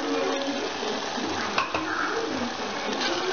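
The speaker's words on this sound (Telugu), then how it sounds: "అంతా బాగా కలుపుకొని" Coconut masala paste of fresh coconut, cloves, cinnamon and cardamom being stirred into an Andhra-style prawn curry, giving a steady close sizzle with soft scraping spoon strokes and a couple of brief clinks.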